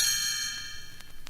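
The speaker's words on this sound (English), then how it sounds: "You will know it is time to turn the page when you hear the Christmas chimes ring like this." Christmas chimes ring out as a page-turn signal for a Frosty the Snow Man read-along: a bright, sustained metallic shimmer that decays slowly, then two soft ringing taps near the end.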